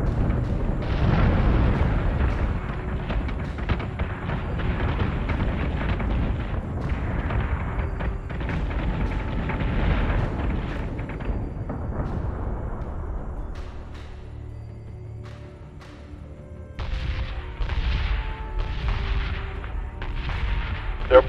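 Fleet artillery and explosions in Battlestar Galactica Deadlock, heavy booming blasts and rapid gunfire bursts rumbling continuously, easing briefly before a fresh volley near the end.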